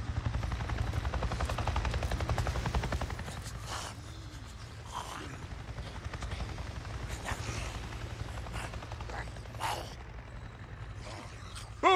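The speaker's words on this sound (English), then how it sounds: "I just saw a goddamn chopper! A chopper? What are you talking about? A NERO chopper! It just buzzed right over me." A NERO helicopter in the video game Days Gone roars loudly overhead with a deep, pulsing rotor drone, then fades after about three seconds into fainter background game noise and scattered clanks.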